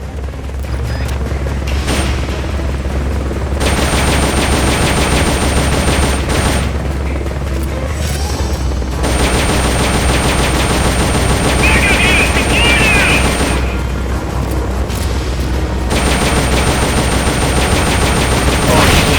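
Sustained automatic gunfire in the video game Metal Gear Solid Peace Walker aimed at an exposed red fuel tank on a chopper, long unbroken bursts with brief pauses over a constant low engine drone.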